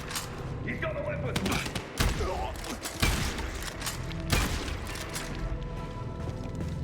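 Gunfire in the zombie video game Dying Light The Beast, several sharp shots cracking out at irregular intervals over a busy game soundscape, with a voice talking alongside.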